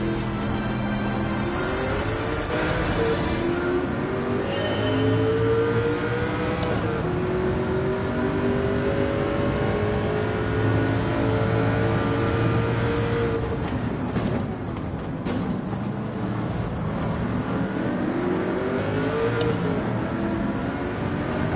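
Sauber Mercedes C9 race car in Gran Turismo 7, its engine revving loudly and continuously, pitch sweeping up and down through repeated gear changes, with a brief lift near the middle before it builds again.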